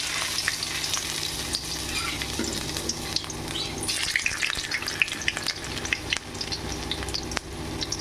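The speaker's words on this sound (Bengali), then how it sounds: "আলুগুলো আমি একটু ভেজে নেব।" Potato pieces fry in hot oil with a dense, continuous crackling sizzle close by, dotted with small pops and stirring scrapes, no voices.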